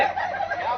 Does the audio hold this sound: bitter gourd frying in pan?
no